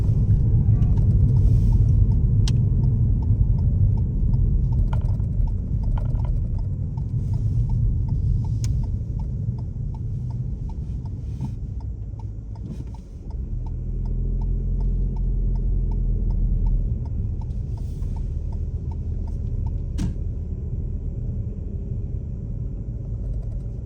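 A car creeps slowly along a narrow country lane in Guernsey, its engine a steady low rumble close in, with faint ticking and occasional light knocks over the top and no talk.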